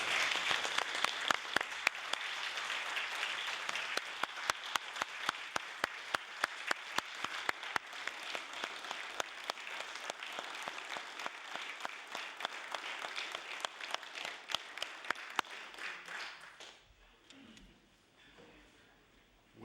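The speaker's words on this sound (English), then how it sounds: "I'd like the House to give them a welcoming round of applause." Sustained applause from members of a legislative House of Assembly chamber welcoming visiting air cadets, dense and steady for about sixteen seconds before tapering off into quiet room tone.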